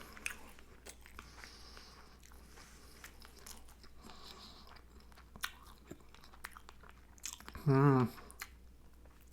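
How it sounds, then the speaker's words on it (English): Close, wet chewing of sushi with fish eggs, soft squishy mouth sounds and little crunches running steadily, then a brief hummed vocal sound near the end. "Still chewing it."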